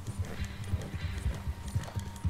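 A horse gallops in Red Dead Redemption 2, its hooves beating a steady, quick clip-clop rhythm at a moderate, fairly close level.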